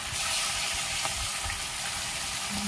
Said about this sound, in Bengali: এত সুন্দর ভাজা হচ্ছে আর এতটা সুন্দর চরবর চরবর করছে মাছগুলো